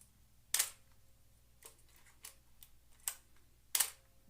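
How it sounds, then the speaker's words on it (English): A vintage 35mm film camera with FD/FL lens mount works its advance lever and shutter, giving a few sharp, close mechanical clicks and snaps spaced apart in a quiet room, with no talking. "Oh, I just love the sound of vintage cameras."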